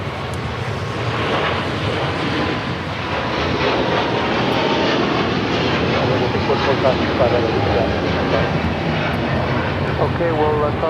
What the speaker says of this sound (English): This is Philippine Airlines 113 taking off to Manila on the 777-300ER.